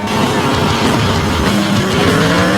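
A stripped car with no doors is driven recklessly against the flow around a roundabout in the John Wick chapter 4 chase, with loud engine roar, tire squeals and skidding close up throughout.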